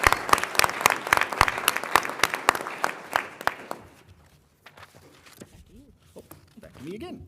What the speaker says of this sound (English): Please join me in another round of applause to these incredible employees.